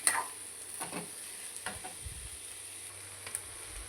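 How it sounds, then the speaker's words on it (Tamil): Onion, tomato and radish sauté in a pan for radish chutney with a soft, faint sizzle, broken by a few light clicks and scrapes of stirring. No one talks. "இப்போ இந்த தக்காளியெல்லாம் போட்டுக்கலாம். இது எல்லாமே நல்லா வதங்கட்டும்."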